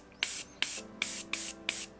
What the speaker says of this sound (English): you can always spray this into here